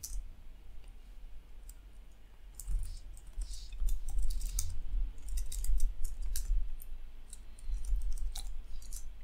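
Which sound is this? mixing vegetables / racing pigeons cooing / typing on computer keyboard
typing on computer keyboard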